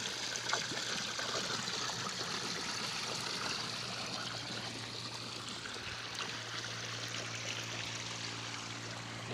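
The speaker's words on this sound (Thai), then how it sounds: "ครับน้ำไหลลงมา" Water flowing down a stream, a continuous rushing, hissing flow that stays fairly even and close throughout with no voices over it.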